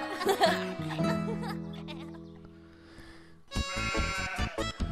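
A cartoon sheep bleats in a wavering, laugh-like voice amid background soundtrack, followed by a burst of layered, bright cartoon sound; no clear speech.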